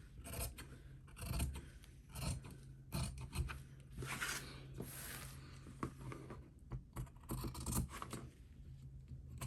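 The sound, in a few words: scissors trimming fabric and clipping notches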